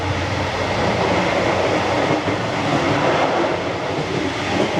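Iranian passenger train running at night on the Mashhad to Tehran route, a steady loud rumble of wheels on rail heard from inside the carriage, continuous throughout with no talk.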